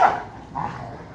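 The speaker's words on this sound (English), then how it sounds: "And this is Brownie protesting that she is acting this way." A single dog gives a short protesting bark, then a softer whining yelp a moment later, close by with no talk.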